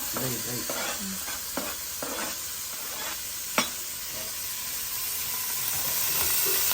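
Onion and tomato roasting dry in a pan, with steady frying sizzle under repeated scraping stirs and one sharp clink near the middle, close and moderately loud, no talk.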